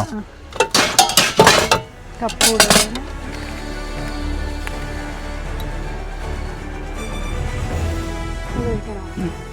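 Sharp metallic clinks of a spoon against a teapot while making black tea come in quick bursts, then fade into a softer murmur of background noise.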